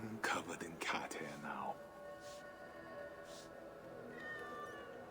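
A pet cat meowing in Assassin's Creed Valhalla, with a few drawn-out meows near the start followed by quieter, fainter calls later, set against a low background hum.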